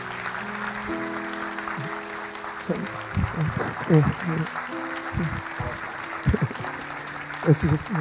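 Congregation applauding during a Sunday worship service at a Korean church, honoring two retiring elders; claps rise in several bursts under a steady hum, with someone speaking over the room.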